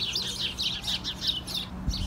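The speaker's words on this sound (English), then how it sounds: "It's like 6 birds in the thing just yelling at each other." Several birds squawk at each other in an enclosure, a rapid overlapping chatter of shrill chirps and squeaks, loud and close, bursting repeatedly over a low steady background hum.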